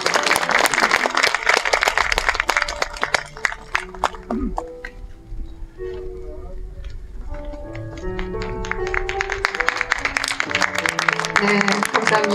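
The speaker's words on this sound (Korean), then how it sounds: "내빈들께서는 큰 박수 부탁드립니다." Guests at the opening ceremony of a poet's literary museum clap during a scholarship presentation, a loud burst of applause that thins out midway and then swells again, with some voices underneath.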